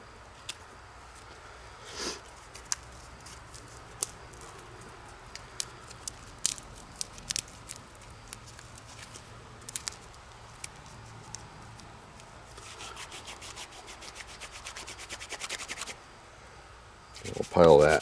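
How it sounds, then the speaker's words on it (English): A knife scrapes and crushes old rotten wood into coarse sawdust. Sparse, sharp crunches and scratchy clicks stand out over a quiet background, and a denser burst of scraping comes near the end. "I want to kind of pulverize this stuff. This is just old rotten wood. I want to see if I can almost make a coarse sawdust with this."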